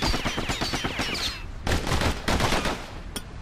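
Rapid bursts of slinger pistol fire in the video game Bastion, loud sharp shots in quick rhythmic strings, then a short pause and a few more volleys and a final single crack.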